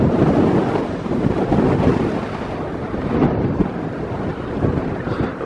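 Strong wind buffets the microphone outdoors near a construction site, a loud continuous roar with gusty low rumbling throughout.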